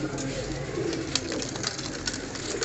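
Sialkoti pigeons coo softly and repeatedly at close range, a low burbling murmur mixed with rustling and faint background chatter.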